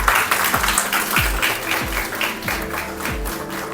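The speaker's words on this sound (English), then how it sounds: "a big round of applause for them." An audience claps at a conference award ceremony, loud and steady throughout, while a low tonal hum runs beneath it.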